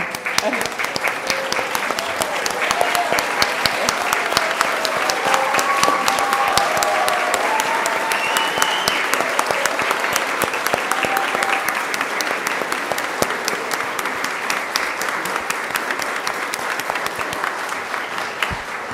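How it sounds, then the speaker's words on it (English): A standing ovation at a GPISD Board of Trustees meeting: dense, sustained applause from a large audience with scattered cheering voices, steady and loud throughout. "we're going to give you a standing ovation today, right now"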